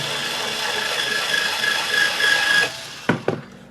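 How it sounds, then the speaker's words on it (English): String being loosened on a Washburn HB-15 acoustic bass: a sustained rubbing, creaking wind of the tuner with a faint pitched tone, then two sharp close knocks as it stops. "I'm going to go ahead and loosen this string"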